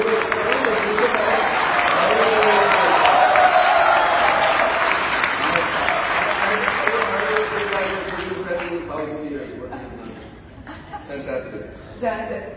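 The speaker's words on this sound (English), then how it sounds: "Look at the smiles and the applause." An audience applauds loudly at a talk session with two guests, sustained clapping mixed with chuckles and murmuring, slowly fading away while voices continue softly underneath at the end.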